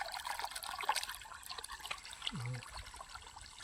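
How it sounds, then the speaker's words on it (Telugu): Soft, continuous trickling and gurgling of irrigation water flowing into a sorghum field, fairly quiet with a steady background wash and no voices. "జొన్నకు నీళ్ళు పెడుతున్నా"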